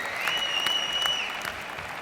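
A squash crowd applauds loudly and steadily through the whole moment, with a thin whistle rising above the clapping.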